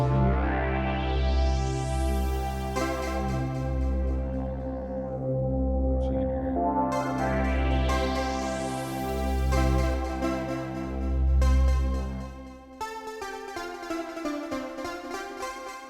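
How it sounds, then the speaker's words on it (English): Custom synth built around a sampled Juno pluck, played on a Synthstrom Deluge: plucked tones over a deep repeating bass line, with rising filter sweeps and a wash of reverb and delay, ending in a sparser descending phrase. "I sampled a pluck from a Juno and then created my own synth around that."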